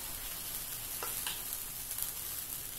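Masala onion egg batter hits a hot tawa, giving a steady, soft sizzle that stays faint and even throughout, with no talking.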